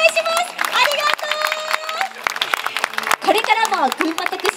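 Audience at a local idol group's live show claps loudly in a dense burst of applause, mixed with cheers and crowd noise, while performers' voices ring out over the clapping.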